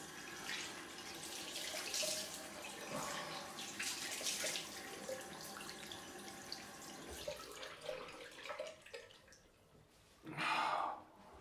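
Water runs from a tap as a shaved head is rinsed, an uneven splashing stream at close range with a louder gush near the end.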